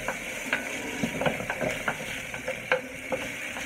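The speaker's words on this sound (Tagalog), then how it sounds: "Then, fry ko na po yung ating onion." Onion frying in hot oil for pad thai, a steady bright sizzle with irregular stirring scrapes and clicks from a utensil in the pan, close and moderately loud.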